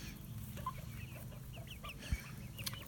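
A mixed flock of chickens, newly introduced birds among an established group, clucks and murmurs steadily at close range, with overlapping soft calls and one brief louder squawk, and no one talking.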